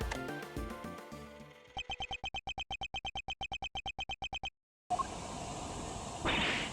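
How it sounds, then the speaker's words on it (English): A hot air balloon sound plays back on a tape in the Ace Attorney Investigations 2 video game: a steady, noisy rushing hiss that swells into a louder roar near the end, following a run of quick beeping blips. "That's the sound of the balloon!"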